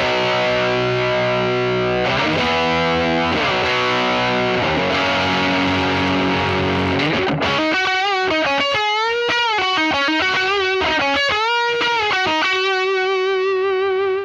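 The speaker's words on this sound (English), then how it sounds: "I'm going to be turning the chorus off, kicking in the JHS Bonsai, and put the guitar volume to 10" An electric guitar driven through a JHS Bonsai overdrive pedal, guitar volume full up, plays a riff: sustained distorted chords giving way to bent, sliding lead notes, loud and continuous.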